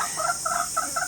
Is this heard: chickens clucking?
yes